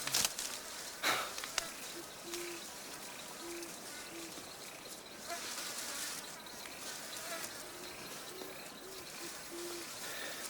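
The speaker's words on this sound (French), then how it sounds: "ces saloperies de moustiques vous ôteraient toute velléité de sentimentalisme!" Mosquitoes buzz in a warm outdoor setting, a thin whining drone under a noisy natural ambience with brief tonal calls and a few sharp knocks near the start.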